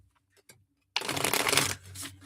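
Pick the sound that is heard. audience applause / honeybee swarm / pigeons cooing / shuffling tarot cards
shuffling tarot cards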